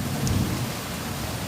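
Heavy rain pours down during a Kalbaishakhi thunderstorm, a dense steady hiss with a low rumble of thunder underneath, loud and close throughout the brief stretch.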